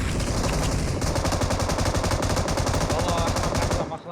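Rapid automatic gunfire in a shooting video game, a dense continuous burst of shots that stays loud throughout before cutting off at the end.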